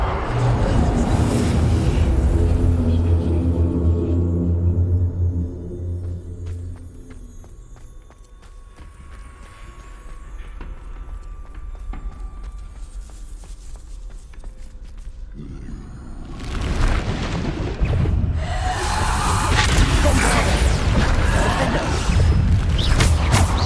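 Spell explosions from Hogwarts Legacy combat, with rumbling booms and crashes mixed with heavy battle noise that swells and dips, loudest near the start and again toward the end.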